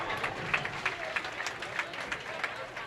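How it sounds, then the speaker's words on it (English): Spectators clap a few lanes away at a junior bowling tournament, scattered distant applause forming a soft hubbub with occasional sharper individual claps standing out. "hear a lot of clapping over a few pairs away"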